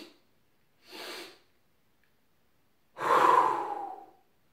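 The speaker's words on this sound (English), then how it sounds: "So it's two breaths in through the nose, and then you exhale through the mouth." Two short nasal inhalations in quick succession, followed by a longer, louder exhale through the mouth, close and clear against a quiet background during a meditation breathing technique.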